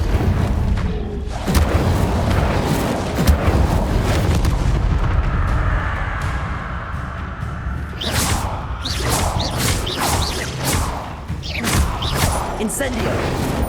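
Incendio fire spell cast in Hogwarts Legacy: repeated whooshing bursts of flame and booming impacts, loud and close, with rushing roars and sharp crackles recurring through combat and some talk in between.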